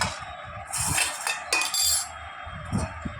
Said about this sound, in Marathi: असं आता या भांड्यामध्ये मी सर्व हे काप काढून घेणार